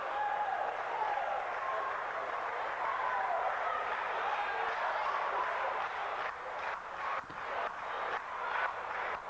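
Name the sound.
wrestling crowd cheering on Tommy Gilbert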